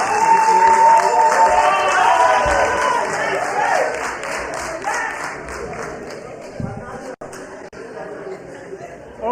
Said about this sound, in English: We'll give Mr. Chico a big round of applause.